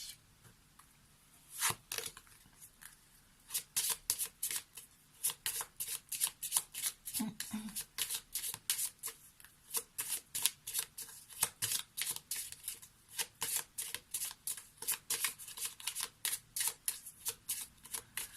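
Lenormand cards shuffled by hand in rapid, repeated riffling bursts, soft and close, continuing steadily throughout with no talk.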